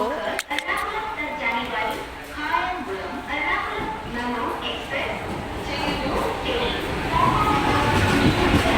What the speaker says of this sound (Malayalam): അങ്ങനെ നമുക്ക് പോകാനുള്ള ട്രെയിൻ ഇതാ വന്നുകൊണ്ടിരിക്കുന്നു